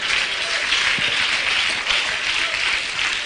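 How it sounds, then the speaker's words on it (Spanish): Loud, continuous applause from a large church congregation, steady clapping throughout with no pause. "Denle un aplauso al Señor."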